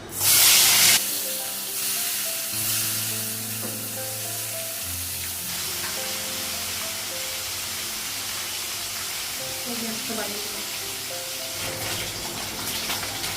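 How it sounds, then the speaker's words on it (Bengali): Turmeric-coated fish frying in a pan gives a steady, fairly loud hiss and crackle throughout, with a louder burst at the start and occasional faint clinks. "মাছটা এক সাইডে ভাজা হয়ে গেছে"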